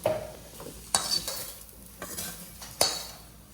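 Spices are stir-fried in a pan for a mustard hilsa dish, with a low sizzle under several sharp utensil clanks and scrapes against the pan, close and fairly loud, and no talking.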